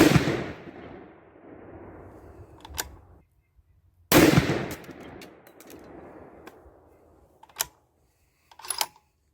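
A Bergara B-14 HMR rifle in 6.5 PRC fires 140gr SST rounds outdoors: two loud, sharp shots about four seconds apart, each trailing off in a long rolling echo, with a few small clicks afterward.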